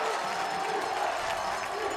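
A home crowd of Warhawk fans at a college football game, a broad, steady roar of cheering and noise heard at a distance from the stands, continuous throughout.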